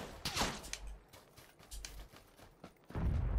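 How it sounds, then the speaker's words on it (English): Gunfire in the battle game PUBG, a few quick shots scattered through the clip with a louder burst near the end, heard at moderate distance. "Someone else is shooting me."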